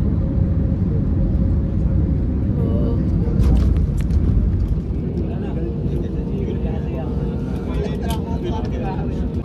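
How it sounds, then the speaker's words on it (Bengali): An IndiGo airliner on a Kolkata to Mumbai flight lands in Mumbai, a loud, steady engine roar that eases slightly partway through, with faint voices and brief rustles over it. "তো লাস্টলি ল্যান্ড করে নিচ্ছি মুম্বাইতে"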